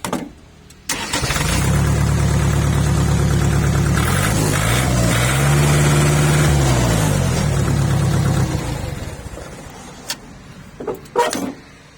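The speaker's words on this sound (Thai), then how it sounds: "ตัวนี้สตาร์ติดง่ายนะครับ เหยียบคัสสตาร์ติดปึ้มเลยนะครับ" A Kubota L3608 tractor's diesel engine cranks briefly, catches and roars into a loud, steady idle that rises and falls slightly before easing lower, with a few clunks near the end.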